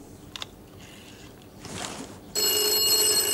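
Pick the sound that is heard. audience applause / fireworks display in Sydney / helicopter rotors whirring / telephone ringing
telephone ringing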